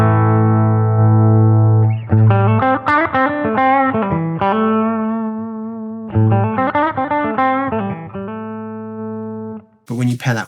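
Electric guitar through a boost preset on a Line 6 HX Stomp XL, playing a sustained chord and then quick melodic runs with bright, ringing tone before another held chord, with a short burst of noise at the very end.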